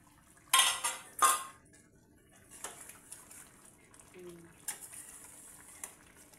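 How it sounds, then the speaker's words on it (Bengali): A lid lifted off a pot of pabda fish cooking in mustard gravy, with a couple of loud metallic clanks at the start followed by softer clatters and light kitchen movement. "এখন আমি ঢাকনা খুলে দিচ্ছি, দেখি পাবদাগুলি পাকলো কিনা"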